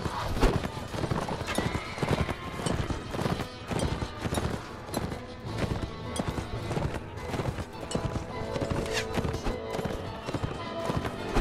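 Horse hooves clip-clop at a steady gallop in Mount & Blade: Warband, with occasional whinnies, all under busy battle noise and someone talking throughout.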